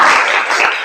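A group doing a 'tepuk semangat' spirit clap during a campus session: a brief burst of clapping from many hands together, close and loud, lasting under a second.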